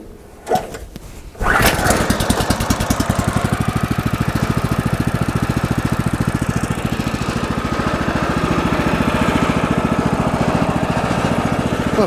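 A sawmill engine, used to run a bandsaw mill cutting a timber, starts up after a brief rattle and then settles into a steady, loud, close idle as it warms up, running alone with no one speaking.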